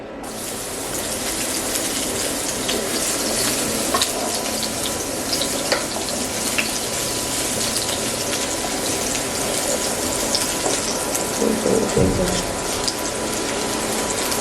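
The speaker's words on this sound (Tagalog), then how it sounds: "Igisahin na natin. Bawang ulit." Garlic sizzles in oil in a single frying pan, a loud, steady crackling hiss with scattered pops that runs without a break throughout.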